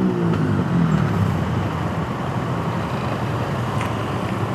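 Steady road traffic rumbles near the Skyway construction to the C5 extension in the Philippines, a dense low hum of cars and heavy vehicles with no voices over it.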